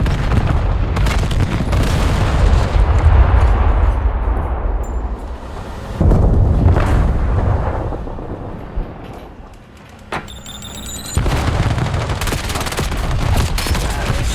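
Rapid gunfire in a first-person shooter video game, loud and dense bursts of shots running almost continuously with a brief lull near the end before firing resumes.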